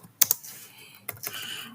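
Keystrokes on a computer keyboard as a Linux install command is entered: a quick double click near the start, then a second burst of several taps about a second later, close and clear with no talk.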